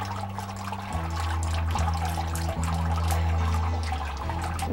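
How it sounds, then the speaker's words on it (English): Ash water being strained for traditional Hanji paper making pours and trickles steadily close by, over a low droning hum that shifts pitch a few times, with no speech. "The ash made this way is strained to produce ash water."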